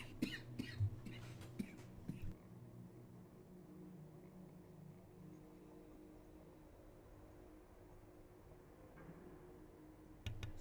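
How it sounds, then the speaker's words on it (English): Several sharp coughs in quick succession at the start, then a quiet stretch of low room hum, with one more brief cough near the end. "Sorry, random coughing fit."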